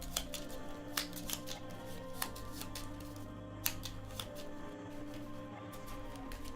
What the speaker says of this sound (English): so I'm going to shuffle and reset and draw 2 more